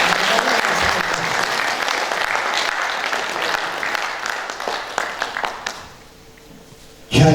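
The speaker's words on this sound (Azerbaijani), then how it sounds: "Alqışlar" Audience applause at a poet's 70th jubilee celebration in Baku, sustained clapping from a seated crowd that fades and drops away near the end before a brief burst of sound.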